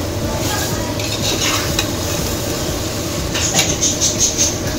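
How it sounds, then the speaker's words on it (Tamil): Chicken and masala are stirred together in a pot for chicken biryani, a continuous near sizzle with scraping ladle strokes and light metallic clinks that grow busier toward the end, with no voices. "கிண்டிடுமா எல்லாம் சேர்த்து நல்லா மிக்ஸ் பண்ணிடணும்"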